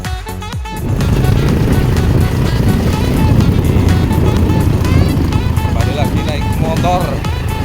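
Motorcycle borrowed from villagers riding a muddy, rain-soaked trail toward a wild boar hunting spot, its engine a steady loud drone after a brief start, with a voice talking over it.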